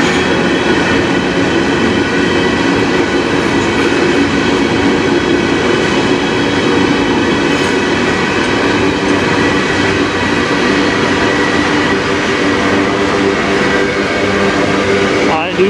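A CN potash freight train with distributed power locomotives passes close by in a loud, continuous rumble, with clattering wheels and a squealing ring from the cars; a voice is faintly heard over it.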